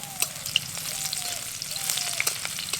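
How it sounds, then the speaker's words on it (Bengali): Medium-sized bitter gourd frying in oil for Bengali shukto, with a steady close sizzle and occasional spatters and pops as it is stirred. "উচ্ছে কিন্তু খুব বেশিক্ষণ সময় ধরে একদম পুরো লাল করে ভাজবো না, এমনি জাস্ট একটু তেলের মধ্যেই নেড়ে নেব।"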